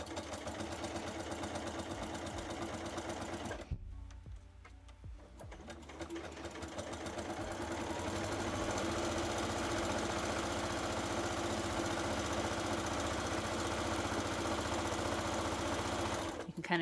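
A home sewing machine runs at high speed while free-motion quilting a child's goose-themed quilted coat, its fast mechanical stitching rattle continuous and close, pausing briefly near the start before resuming at full pace.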